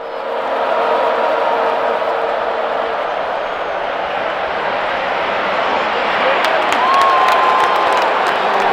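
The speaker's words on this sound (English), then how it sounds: "I'm hearing a few boos from the crowd" Dense stadium crowd roaring steadily at an Alabama vs LSU football game at Bryant-Denny Stadium, a loud continuous wash of voices with a faint swell of boos and scattered whistles toward the end.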